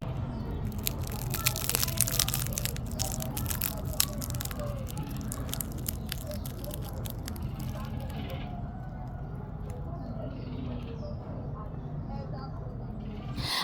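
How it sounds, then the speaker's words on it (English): Close-up crunching of a bite into a fried spring roll, dense crackling and crisp snaps loudest early on, then softer chewing noise continuing steadily. "See spring roll, now hear the sound for yourself."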